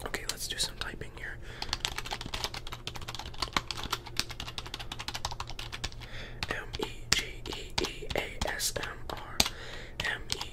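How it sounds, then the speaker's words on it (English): Rapid keyboard typing in an ASMR setting, a dense run of close, crisp key clicks with scattered louder taps, set against a steady low hum and soft breathy background. "let's do some typing here"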